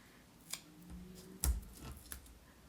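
Scissors snip through a strip of tape during card crafting, a couple of quiet close clicks with one sharper cut in the middle, faint and isolated.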